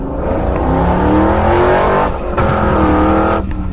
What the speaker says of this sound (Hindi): और फिर गुल्ली गाड़ी को पूरी फुल स्पीड में भगाने लगता है,